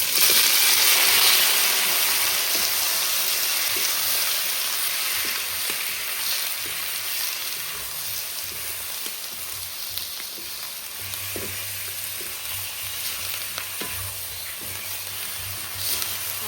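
Pork sizzles loudly in a hot pan over high heat, a dense continuous frying hiss with occasional pops and faint clinks of stirring.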